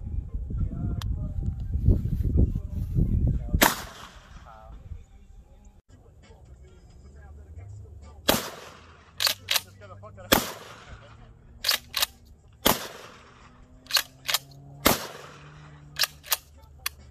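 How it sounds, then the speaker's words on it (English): A shotgun loaded with buckshot fires repeatedly outdoors: about a dozen sharp, loud bangs, first alone and then in quicker irregular pairs and runs, with a short ring after each shot. "I'm gonna click it forward and then we're ready to shoot."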